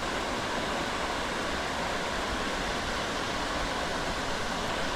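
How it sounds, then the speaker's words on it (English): A small waterfall on an urban creek in the middle of town: a steady, full rush of falling water that stays constant and fairly close throughout, with no voices. "It's been forever since I've been down to this little waterfall."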